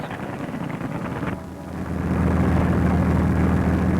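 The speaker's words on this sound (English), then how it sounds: "the sound of aeroplane engines filled the air" Aeroplane engines of the Second World War air campaign over England drone as a thick, continuous roar that dips briefly and then swells louder and steadier, with no voices.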